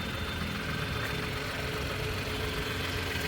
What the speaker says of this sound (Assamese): মই ইঞ্জিন ষ্টাৰ্ট কৰি দেখাই দি আছোঁ, চাই লওক। গাড়ীখন ষ্টাৰ্ট কৰিছোঁ,